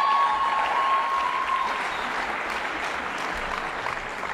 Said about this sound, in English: can we get a massive round of applause once again for our dancing rugby players?